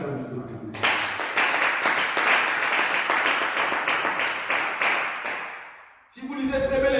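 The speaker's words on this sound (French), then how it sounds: "On acclame Dieu, on acclame Dieu." A church congregation applauding with dense, steady clapping for several seconds under a loud preacher's voice, the clapping tapering off before a fresh burst.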